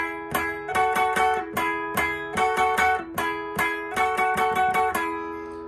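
An electric guitar picks a quick punk lick of paired two-note harmonies in thirds, clean and close, with a bouncy rhythm of short phrases and brief pauses.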